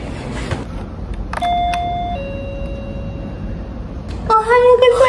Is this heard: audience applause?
no